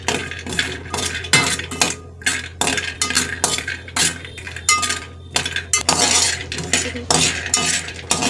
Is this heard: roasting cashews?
yes